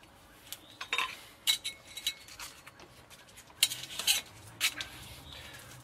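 Body filler being stirred together with hardener for spackling an Iltis, a scraping spatula giving sharp irregular clinks and taps in short bursts, close and fairly quiet, no talk.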